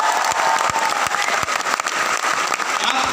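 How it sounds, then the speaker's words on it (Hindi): Loud audience applause at a training seminar, thick continuous clapping from a large crowd, close and sustained throughout. "उनके लिए एक जोरदार तालियां होना चाहिए"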